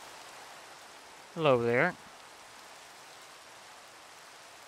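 Steady rain falling in the video game Minecraft, a soft, even hiss of pattering drops that runs throughout, with a short spoken greeting from a man near the middle.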